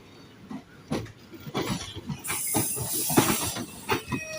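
A train on the Coimbatore–Nilambur run rumbles with uneven knocks and rattles heard close from on board, overlaid by a bright hiss that grows louder midway.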